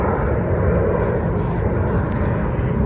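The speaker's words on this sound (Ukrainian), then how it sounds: "тут у мене самоліти літають, я в парку" An airplane passes over a park, a loud steady low roar of engine noise that fills the whole stretch without fading, with no voices.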